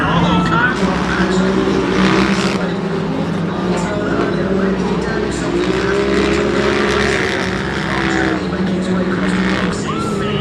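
Off-road race cars at Crandon roar and rev loudly in a dense, continuous engine din with rising and falling pitches, while an announcer talks over the racing.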